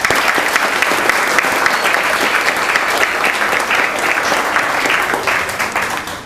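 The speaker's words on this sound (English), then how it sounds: "How about a nice round of applause?" Guests at a high school spring sports banquet break into vigorous applause, a loud, dense wash of clapping from a full room that holds steady and then starts to taper off at the end.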